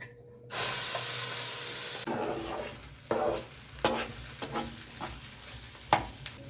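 A green pea filling hits hot mustard oil with black cumin in a frying pan, giving a loud burst of sizzling that settles into a steady hiss, broken by several sharp scrapes and knocks of stirring.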